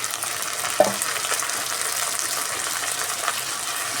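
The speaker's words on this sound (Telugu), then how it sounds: "ఎర్రగడ్డలు బాగా వేగిపోయాయి కదా ఇప్పుడు మనము ఉడికించుకున్న గోరుచిక్కుడుకాయలను కూడా వేసేస్తున్నామండి" Boiled cluster beans hit a pan of fried onions, giving a bright knock at the start, then a steady moderate sizzle with light stirring over medium flame.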